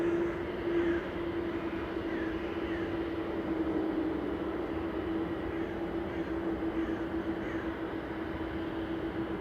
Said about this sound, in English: Next arrival's the VS110 Virgin A330 from Atlanta, operated by GV KSS A330-300